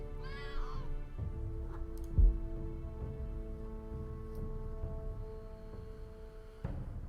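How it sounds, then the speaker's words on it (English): A cat meows a few times near the start, set against the steady music and ambience of the Game of Thrones adventure game, Telltale Episode 3, with later sounds staying quiet and low. "And the cat has his part to say in it."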